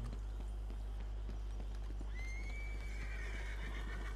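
A horse in the Red Dead Redemption 2 video game clip-clops at close range, then lets out a clear, rising whinny over a steady low hum, with no talking.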